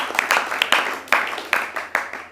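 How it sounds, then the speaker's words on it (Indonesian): A small audience applauds at a Quran school event, a sparse, uneven run of distinct claps from a few people, moderately close and fading in and out over two seconds. "Tepuk tangan untuk beliau."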